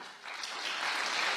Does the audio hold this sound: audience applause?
yes